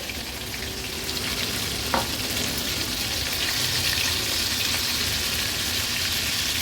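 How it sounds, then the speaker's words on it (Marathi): Battered prawns deep-frying in hot oil for crispy Koliwada-style prawns, giving a steady, dense sizzle that runs the whole time, with a single brief tap near the start. "शेवटची आपण ही प्रॉन्सची बॅच तळत ठेवली आहे."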